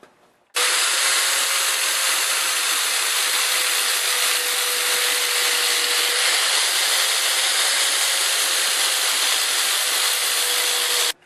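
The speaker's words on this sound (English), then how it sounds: "At the end here, I'm just going to grind it down flat with the other piece" Grinding down a steel weld bevel flush with the adjoining piece, a steady loud abrasive whine holding unbroken for about ten seconds.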